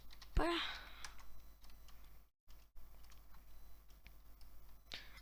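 Keys clacking softly as a command is typed on a computer keyboard during a Minecraft session, a sharper burst near the start followed by faint, scattered clicks over quiet room noise.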